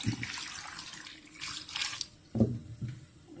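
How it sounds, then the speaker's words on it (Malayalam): Water pours into a pot of sambar ingredients for cooking in a kitchen, heard as a soft, close splashing and gurgling in short bursts over a few seconds, fairly quiet, with no speech. "ആവശ്യമുള്ള വെള്ളം ഒഴിക്കാം"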